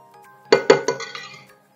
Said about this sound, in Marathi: आता ही काढून घेऊया डिशमध्ये मस्त.